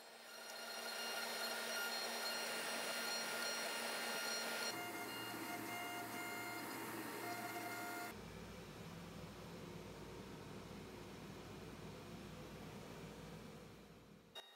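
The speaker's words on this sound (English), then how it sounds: "Now it's time to let the machines take over. Having center lines front and back helps them cut straight." CNC machines cutting an aluminum oxide style workpiece along center lines for a magnetic levitation build, a steady loud mechanical whine and hum that shifts tone twice as the cut changes, running alone without talk.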